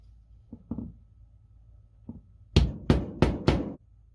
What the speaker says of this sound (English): Carefully place the cap on the curved side of your anvil and strike it so the tube flattens or curls outward.